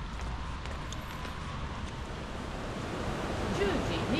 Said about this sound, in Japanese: こんなに優しいせせらぎの山田川なんて